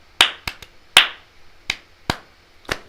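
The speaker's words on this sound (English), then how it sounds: "can we just clap it?" Hands clapping in a casual chat setting, six or seven sharp, close, isolated claps in an irregular rhythm, loud and dry with no talk.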